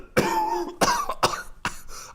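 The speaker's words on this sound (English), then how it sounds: "And I emerge coughing." Someone coughs after a small kitchen explosion, with four harsh, raspy coughs in quick succession, close and loud, the first one drawn out and the rest sharper and shorter.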